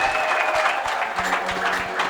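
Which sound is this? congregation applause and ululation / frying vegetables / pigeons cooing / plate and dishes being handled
congregation applause and ululation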